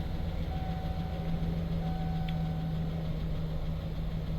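Steady, close idle of a 2007-2013 Chevy truck engine with a faulty fuel pump control module, a constant low rumble with a faint whine and no voices.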